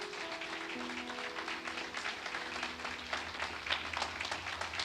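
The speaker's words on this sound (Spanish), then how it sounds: "A ver, más fuerte ese aplauso al Señor." Church congregation applauding during a Spanish-language sermon, a steady, dense wash of clapping filling the room, moderately loud and continuous with a faint sustained tone underneath.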